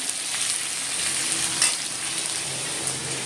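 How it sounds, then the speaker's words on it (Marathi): Sliced onions and tomatoes fry for a prawn biryani gravy, giving a steady, close sizzle with faint stirring and no talk. "तीन कांदे आणि दोन टॅमॅटोची घट्ट घट्ट घेऊ तर ह्याला आपण चांगलं परतून घ्यायचे"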